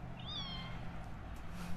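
A newly adopted shelter kitten gives a single short rising meow near the start, clear but not loud, over a low room rumble.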